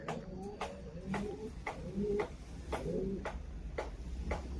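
Breeder pigeons in a loft with nest bowls coo softly and repeatedly, low throaty calls over a faint background with a few sharp clicks and taps, close by and without talk.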